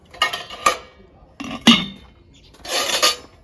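Pots, pans and metal utensils clink and clatter in a few separate bursts, close and moderately loud, like dishes being washed or set down, with no talk over them.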